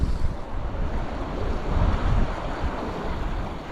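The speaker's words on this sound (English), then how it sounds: "That wind's relentless" Strong, relentless wind blowing over open water at a sandy shore during rainy lure fishing for bass, a loud, continuous roar buffeting the microphone with surf rumbling underneath.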